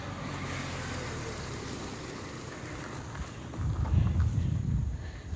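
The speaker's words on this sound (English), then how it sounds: "Car coming by." A car passes along a quiet road beside a cemetery, starting as a faint wash under wind noise. It swells into a louder rumbling pass-by near the end.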